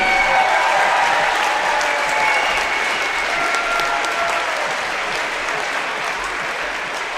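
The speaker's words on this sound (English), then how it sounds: "Give a big round of applause for Mr." An audience at a high school Hall of Fame night before a boys basketball game applauds an inductee, a dense, steady wash of clapping from a large crowd that holds loud and slowly eases off.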